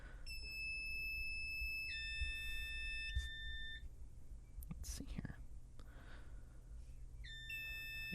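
A System Sensor low-frequency fire alarm sounder during a fire alarm system test, giving repeated two-tone electronic bursts with brief gaps, fairly faint over background hum, with clicks and handling noise in between.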